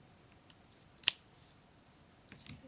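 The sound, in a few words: scissors cutting off excess fabric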